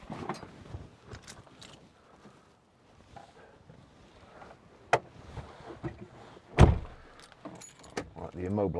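Keys jangle and a door is worked open on a 2015 Land Rover Defender 90 TDCi station wagon, with light metallic clinks, a sharp thump, and someone talking nearby over the scattered handling sounds.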